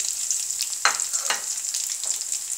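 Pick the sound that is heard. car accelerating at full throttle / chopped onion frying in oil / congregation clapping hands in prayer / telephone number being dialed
chopped onion frying in oil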